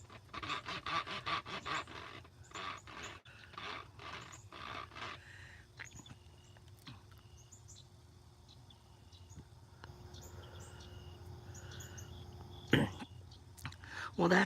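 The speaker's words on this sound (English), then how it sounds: "that's the sound, excuse me, of a straw going in and out of the bottle" A plastic straw is pushed quickly in and out of a bottle, making a rapid run of rasping, scraping strokes close to the microphone for the first few seconds before the sound fades to quieter, scattered rustles.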